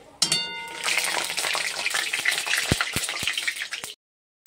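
Sugar hits hot oil in a wok (kadai) for jackfruit kalia, setting off a sudden loud, close sizzle that holds for about four seconds, crackling throughout, then cuts out abruptly.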